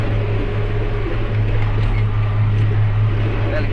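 A Mitsubishi 8.3-litre inline six-cylinder engine idles on a tractor pulling a hay baler, giving a steady, loud, low-pitched hum with an even, continuous throb throughout and no break.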